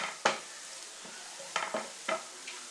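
Onions fry in a pan for a bread omelette, with a few distinct stirring scrapes and clinks of a spatula over a quiet background sizzle, heard close and alone.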